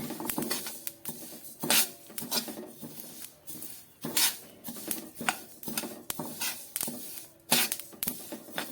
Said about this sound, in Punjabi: ਅਲਸੀ ਆਪਣੀ ਭੁੱਜ ਰਹੀ ਆ ਇਹਦੇ ਹੀ ਪਟਾਕੇ ਜੇ ਪੈਣ ਲੱਗ ਜਾਂਦੇ ਆ ਜਦੋਂ ਭੁੱਜਦੀ ਆ